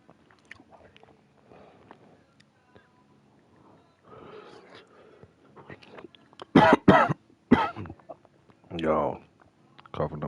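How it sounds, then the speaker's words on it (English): One person coughs and clears their throat while a Dragon Age game plays, with a quiet stretch first and then several loud, harsh bursts of coughing mixed with murmurs and soft voiced sounds. "coughing up"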